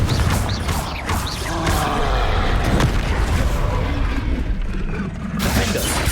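Confringo fire spells blasting in the Hogwarts Legacy video game, mixed with other spell effects during a duel: dense, loud booming bursts and crackling impacts that follow one another without pause across the whole stretch.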